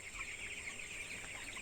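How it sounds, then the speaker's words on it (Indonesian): Twenty-day-old broiler chickens cluck softly in a poultry house, faint scattered calls over a constant steady hiss of background noise. "Ini ayam broiler usia 20 hari."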